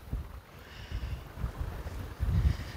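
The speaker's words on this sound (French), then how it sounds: "Tu vois, il y a du vent" Low, gusty wind on the coast of Corsica buffeting the microphone in uneven rumbling bursts, rising toward the end, with no voices.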